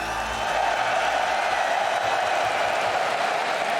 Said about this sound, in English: Sorry, the crowd's really loud.